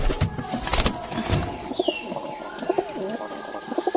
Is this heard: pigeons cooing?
yes